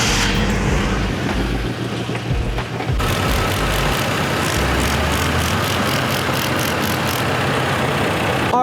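An old Chevrolet S10 pickup truck engine idles steadily nearby, a low continuous rumble holding an even pace, with a few faint airy bursts layered over it in the later part.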